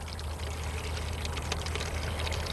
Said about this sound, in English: the bad seed will rise to the top of the pulp. And I just pour that out.